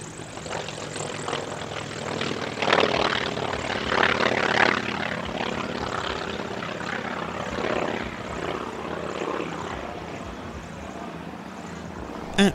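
A steady, moderately distant drone of Vietnam War-era Huey helicopters and other aircraft flying at the Barksdale Defenders of Liberty airshow in 2025, with a broad engine and rotor rumble holding throughout and no talking.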